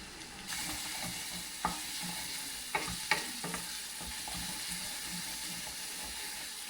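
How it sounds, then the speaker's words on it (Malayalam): Ginger and garlic frying in a pan for lemon pickle, a continuous close sizzle and hiss with occasional stirring scrapes and small pops, no voices. "ഈ ഇഞ്ചി വെളുത്തുള്ളി നല്ലപോലെ മൂത്തു."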